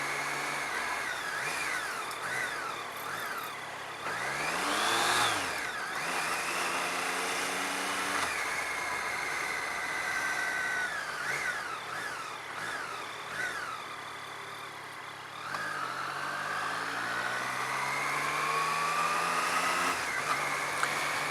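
A motorbike pulls away in first gear after slipping into neutral while moving, its engine tone rising and falling in repeated climbs as it accelerates, steady and fairly loud with wind noise throughout.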